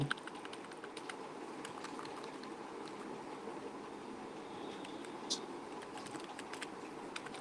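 Computer keyboard keys tapped at a steady pace while entering a number value in SQL, faint clicks spaced through a hushed room hum, with one slightly sharper tap near the end.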